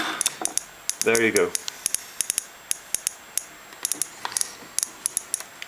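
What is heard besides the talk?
military Geiger counter clicking near thorium ore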